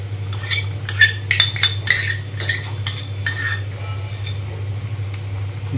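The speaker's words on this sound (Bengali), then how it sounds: "মটন কষা চলছে" Mutton kosha stir-fried in a pan: a run of sharp metal spatula scrapes and clinks against the pan over a constant low hum, loud and close, then thinning toward the end.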